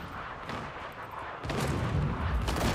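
Booming explosions from a video game's challenge mode rumble through the clip, a softer blast first and then a louder, sustained roar in the second half.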